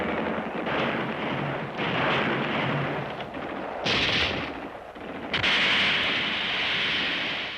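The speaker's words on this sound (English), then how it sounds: "They must be blown out of their caves by grenades." Loud, continuous bursts of wartime explosions and heavy gunfire as soldiers are blasted out of caves with grenades in the Pacific war, dense booming noise with sharp surges and no voices.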